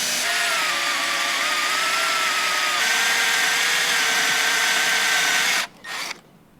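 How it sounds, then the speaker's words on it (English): A power drill with a 1/4 inch bit bores through a metal kart fork, a loud, steady high whine lasting several seconds before spinning down and stopping abruptly. "you're going to take your 1/4 inch drill bit and you are going to drill through your factory fork"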